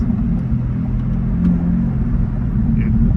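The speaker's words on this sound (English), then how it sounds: "You can rev it with putting a neutral with both paddles." A Corvette GT4 R race car engine runs in neutral with a loud, close, steady low rumble that holds for about three seconds without clear rising revs.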